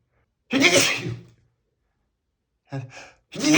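A single loud, sharp sneeze up close, followed after a pause by a couple of short breathy gasps.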